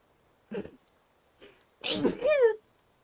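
A single sharp sneeze, close and fairly loud, preceded by a couple of short vocal sounds and ending in a drawn-out voiced tail.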